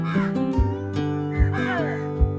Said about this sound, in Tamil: மயில் கத்துற சத்தம் தாங்க கேட்குது